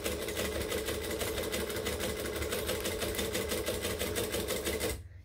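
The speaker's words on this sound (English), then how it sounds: "I'm going to go up to a 4-stitch length, which is my decorative one. And we're going to top stitch." A sewing machine top stitching a bag at a long 4-stitch decorative length, running steadily with a fast, even mechanical chatter for about five seconds before stopping abruptly.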